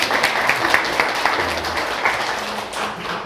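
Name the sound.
audience applause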